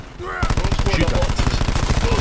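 Automatic gunfire in a tactical shooter video game, a loud, rapid, evenly paced burst that starts abruptly and keeps going without a break, drowning out the background.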